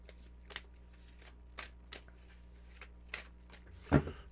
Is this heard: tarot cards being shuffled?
yes